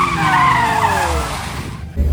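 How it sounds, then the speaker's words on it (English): BMW drifting with tires skidding and squealing, a loud sustained screech with shifting pitch and engine roar close by, fading briefly before the engine surges again. "Pratik Dalal is also in action with his BMW"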